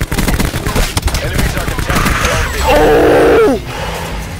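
Gunfire in the video game Call of Duty: Black Ops 4, loud dense bursts of shots mixed with game sound effects and a sustained roaring blast near the end, with voices and chatter underneath.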